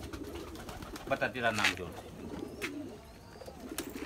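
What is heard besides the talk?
pigeons cooing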